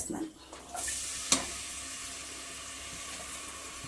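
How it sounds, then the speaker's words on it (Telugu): Chopped onion tipped into hot oil for a Telugu pendlam mango dish, a sharp burst of sizzling that settles into a steady frying hiss, with a brief clatter partway through. "ఇక నూనె కాగుతుంది పోసేస్తా ఇదిగో ఉల్లిపాయ"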